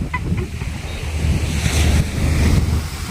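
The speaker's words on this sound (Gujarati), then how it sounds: "આજે તો બહુ ગાંડો છે એવો દરિયો" Rough sea waves surge and crash at Porbandar Chowpatty beach, loud and close, with heavy wind buffeting the microphone and no voices.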